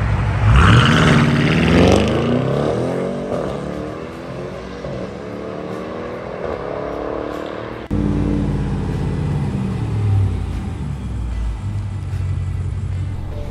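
A 2018 BMW M550i accelerates hard, its engine note sweeping up loud and close through the gears, easing briefly, then surging again for a second strong pull.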